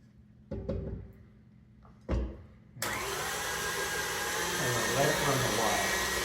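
An electric stand mixer runs steadily through peanut butter oatmeal cookie dough with a continuous whirring hum close by, after a few knocks and clatters.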